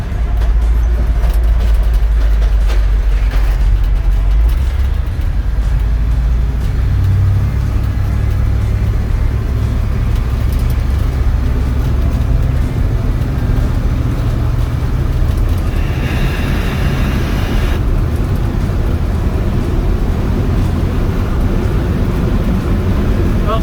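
A 1972 Ford F250 pickup with a 390 V8 driving down the road, with a loud steady low engine drone and road rumble heard from inside the cab, continuous throughout.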